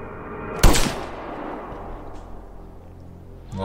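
A single sharp, loud gunshot goes off in the video game Bloodshore, then decays into a lingering rumble before a faint thump at the end; no voices.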